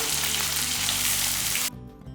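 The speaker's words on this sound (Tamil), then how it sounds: "இந்த வெங்காயம் வதங்கும் போது" Close, steady sizzling of onions frying in hot oil, a dense crackling hiss that drops off abruptly near the end, leaving a quieter low hum.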